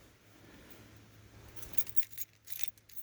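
Keys jangle and clink close by in a garage where a 1974 Dodge Charger is being worked on, a bright metallic rattle building into several quick bursts near the end, with no talking.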